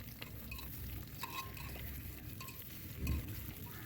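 Mutton lungs frying with browned onions in a pan, with a soft steady sizzle under scraping stirs and a brief heavier clatter near the end. No one speaks.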